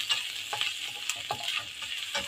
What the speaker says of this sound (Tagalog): So ngayon igigisa ko na po yung ating garlic at saka ginger.